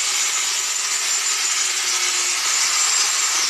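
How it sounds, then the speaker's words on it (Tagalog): A grinder works steadily on a Honda motorcycle part, producing a continuous, loud, close, hissing abrasive whine with no pauses and no speech. "Kailangan grinderin."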